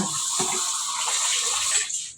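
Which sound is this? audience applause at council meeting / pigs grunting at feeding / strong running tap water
strong running tap water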